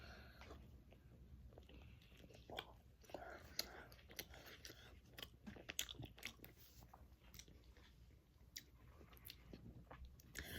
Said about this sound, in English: I'm going to take a bite into the Crunch Wrap so you guys can see it